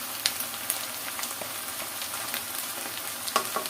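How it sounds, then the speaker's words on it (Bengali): Spiced chana dal (chickpea lentils) fries in a pan with a steady, close sizzle and crackle, while a spoon scrapes and stirs now and then, with no voices. "মশলাটা খুব সুন্দরভাবে কষায় নিয়েছি নাড়াচাড়া দিয়ে।"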